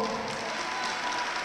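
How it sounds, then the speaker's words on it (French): A crowd applauds a costumed demonstration troupe at an indoor convention in Issoudun, a steady dense wash of clapping with no breaks. "Un tonnerre d'applaudissements"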